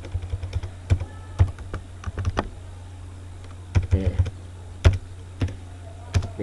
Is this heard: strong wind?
no